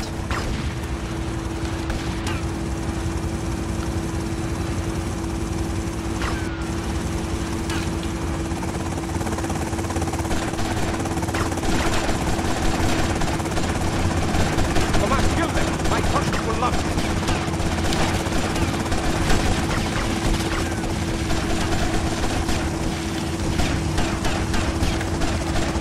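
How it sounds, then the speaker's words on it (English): A helicopter in GTA Vice City, its rotor and engine droning steadily and loudly throughout, with gunfire bursts and booms scattered over it and a voice talking at times. "I want to shoot down the helicopter here."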